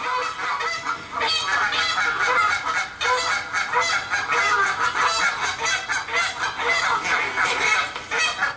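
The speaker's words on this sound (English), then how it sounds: "listen to that high cluck in the background" A steady stream of high-pitched goose clucks, quick and repeated, with other honking geese calling throughout.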